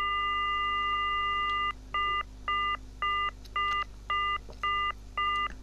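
Dialing tones from a telephone in the Silent Hill video game: a long steady tone, then a run of seven short, evenly spaced beeps with brief gaps between them, clear and prominent over a low background hum.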